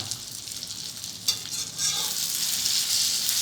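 Eggs stir-fried in a pan with a splash of tap water give a steady, close sizzle that grows louder and more intense after the first couple of seconds, with no talking.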